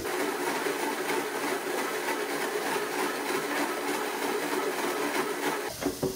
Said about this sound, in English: So we put it in the blender.